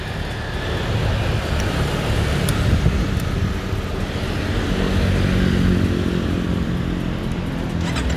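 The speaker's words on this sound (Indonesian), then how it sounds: "kita akan coba cek sound suara knalpot Proliner di Kawasaki Ninja" A Kawasaki Ninja 250 FI fitted with a Proliner aftermarket exhaust revs nearby, a loud continuous engine drone with steady low rumble that swells slightly midway and holds throughout.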